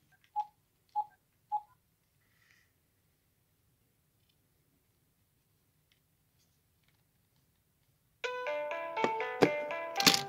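A Pinephone running Manjaro's KDE Plasma Mobile rings with an incoming call. Three short beeps come first, then after a long quiet stretch a loud, bright, tonal ringtone bursts in and plays steadily to the end.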